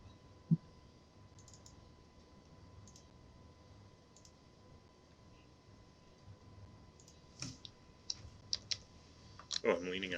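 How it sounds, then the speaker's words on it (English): Computer keyboard keys pressed by someone leaning on them: a few scattered faint clicks early, then a quick cluster of louder clacks near the end, all quiet and close. "Oh, I'm leaning on my keyboard."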